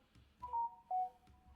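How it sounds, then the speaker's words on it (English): Two short electronic phone notification tones sound in quick succession, each a steady clean beep, fairly quiet against a low background murmur with no talk over them. "my phone keep going off"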